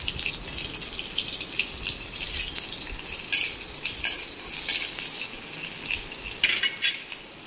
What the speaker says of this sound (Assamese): এই আলুখিনি আমি ফ্ৰাই কৰি ল'ম।